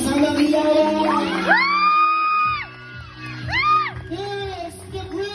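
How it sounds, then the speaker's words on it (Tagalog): A crowd at an 18th birthday celebration whoops, yells and cheers loudly in rising, drawn-out bursts, with a short lull before a second wave of shouting. "pwede po bang marinig uli yung palakpakan na may kasamang hiyawan?"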